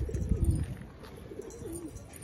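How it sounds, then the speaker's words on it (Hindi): Pigeons freshly let out of their loft coo softly on a drizzly day, a few low, throaty calls rolling out over faint background ambience. "ये है अपने कबूतर जो आज खोले हैं।"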